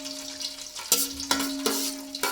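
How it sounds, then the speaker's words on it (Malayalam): Cashews fry in hot ghee for a prawn biryani, a close, steady sizzle broken by several sharp scraping strokes of a spoon stirring the pan, with a faint hum underneath. "കശുവണ്ടി നന്നായിട്ട് ഇളക്കി കൊടുക്കാം."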